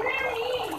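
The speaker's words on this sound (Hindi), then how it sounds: "बच्चों का शोर भी आपको सुनाई दे रहा होगा," Children's lively voices carry through a home kitchen where aloo keema with potatoes is cooking; the high, chattering noise runs continuously through the brief moment.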